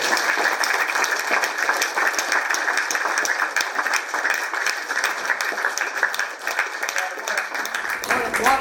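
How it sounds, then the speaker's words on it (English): Audience applause fills the room, with dense, sustained clapping from a crowd at a political speech in Australia, loud and continuous throughout. "More applause, please, ladies."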